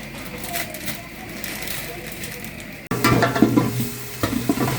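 Pointed gourd frying in a pan while being stirred, a steady sizzle that grows louder midway with scraping and rustling as the pieces are turned.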